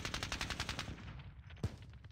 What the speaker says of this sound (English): Let's take that anti-tank rifle. Let's fire at this Ferdinand for fun.